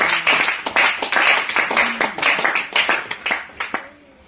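A church congregation clapping in acclamation after a sermon, a dense rhythmic burst of many hands, fairly loud and close, then fading out.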